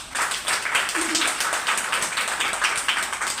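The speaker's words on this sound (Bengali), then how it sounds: "মেয়েদের সাজগোজের সব কিছু আছে বলে মেয়েরা একবার জোরে হাততালি দিই" Women in a seated audience clap at a training session, a steady broadband patter of many hands sustained throughout, fairly moderate in level, with faint murmuring underneath.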